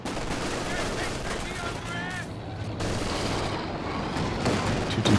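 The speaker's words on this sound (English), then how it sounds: "He's finally gone for some LMGs now." Light machine gun fire in Company of Heroes 2 crackles as continuous, dense bursts of shots mixed with distant battle noise, and a voice talks over much of it.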